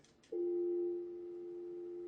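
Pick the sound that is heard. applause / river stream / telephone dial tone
telephone dial tone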